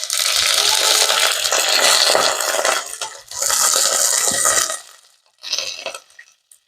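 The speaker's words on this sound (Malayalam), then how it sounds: "കുറച്ച് വെള്ളം ഒഴിക്കുകയാണ്." Water is poured into a pan of Kannithoova curry, giving a splashing, hissing pour in two long bursts, then a shorter trickle and quiet.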